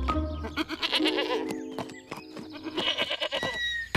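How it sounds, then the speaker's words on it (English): A goat bleats in a cartoon village scene, several close, wavering calls layered over music, with no talk. "it's not every day I get to deliver a goat"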